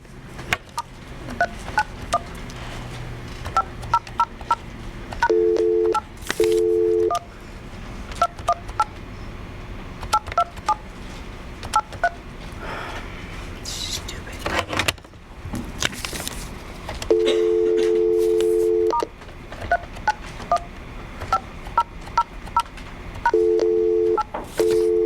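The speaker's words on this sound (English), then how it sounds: "It is now necessary to dial the area." A telephone number is dialed on a keypad, producing crisp DTMF tones in short bursts, some quick single beeps and a few longer held tones, spread through the clip with quiet gaps and faint clicks between them.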